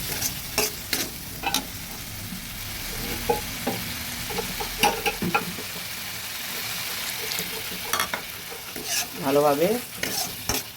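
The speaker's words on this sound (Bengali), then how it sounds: "মশলাগুলো আমার ভাজা হয়ে গেছে" Ground chilli and turmeric powder with a splash of water being stirred and fried in a pan for a Bengali kechki fish and flat bean potato curry, with repeated scraping stirs over a steady sizzle and a brief spoken word.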